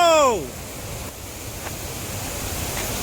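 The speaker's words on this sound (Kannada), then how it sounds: "ಯಾ ನೋಡಿ ಹಿಡನ್ ಫಾಲ್ಸ್ ಇದು ಮಾಡ ಫಾಲ್ಸ್ ನೋಡಿ" Mala Falls near Karkala in Udupi pours as a steady, broad roar of rushing water. It runs continuously beneath a brief voice at the start.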